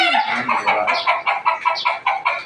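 A rooster clucks and squawks in a fast, repeated series of loud, close calls, with no talking.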